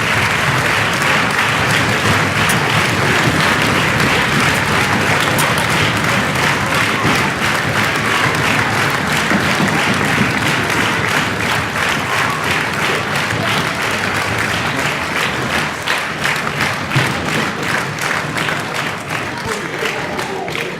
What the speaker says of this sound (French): Je vous demande également de faire un tonnerre d'applaudissements à deux femmes d'exception, Florence Baumer et Laurence Conègre